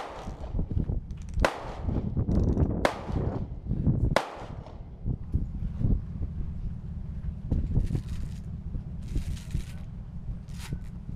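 Sharp rifle shots crack out at an outdoor range, with a new barrel fired at close range; a few loud, widely spaced reports ring over steady wind noise and low rumble.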